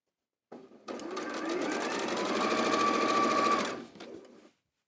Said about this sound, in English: So I've now sewn those together there